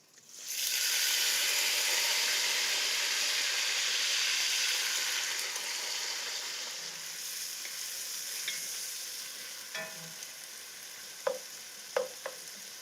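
Leeks stewing with bacon in a pot give a steady, close broadband sizzle that eases slightly partway through, followed by a few sharp clinks and taps near the end.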